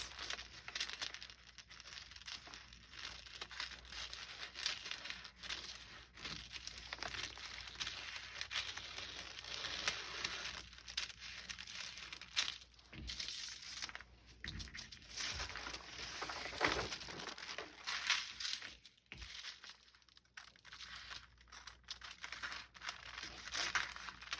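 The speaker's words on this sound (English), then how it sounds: "now I'm just going to cut out this new pattern piece" Scissors cutting through a paper sewing pattern piece for a gathered raglan sleeve, giving a steady stream of soft crisp snipping and paper crinkling at close range, continuous and without talk.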